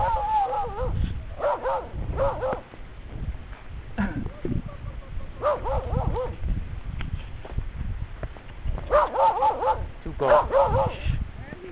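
A dog barks and yips repeatedly in bursts over several seconds, close by, with a person talking over the barking.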